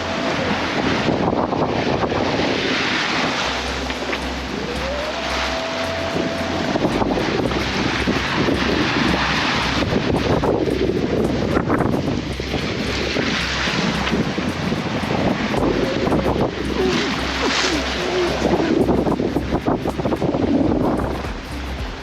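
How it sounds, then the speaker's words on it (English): Strong wind of about 23 to 28 knots buffeting a 100% electric sailing yacht off the Baja Mexican coast, a constant loud roar with heavy microphone wind noise and sloshing waves, no talk. "we've got winds generally between 23 and 28 knots at the moment"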